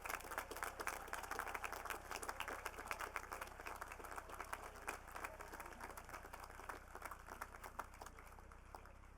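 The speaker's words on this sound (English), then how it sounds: "Let's give all our new master's degree recipients a round of applause" A large crowd at an engineering school diploma ceremony applauds new master's degree recipients, with dense, steady clapping heard from a distance that carries on evenly throughout.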